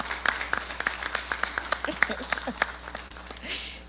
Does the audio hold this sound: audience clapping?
yes